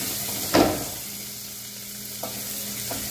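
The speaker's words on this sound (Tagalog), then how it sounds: "Isahin natin ang sibuyas." Onion sautéing in a cooking pan, one brief loud scrape of stirring over a low steady sizzle, followed by a couple of faint taps.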